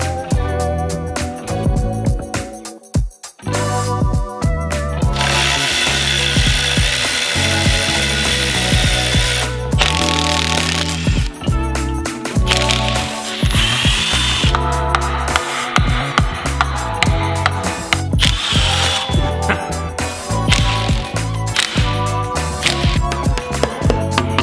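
Ratchet clicking steadily and loudly at close range while cylinder heads are removed from an engine, with metallic clanks and tool handling throughout.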